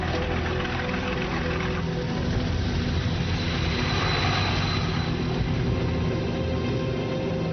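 Engines of WWII German military aircraft taking off from airfields in occupied France, a steady, loud, dense roar that swells slightly midway and holds throughout with no voices.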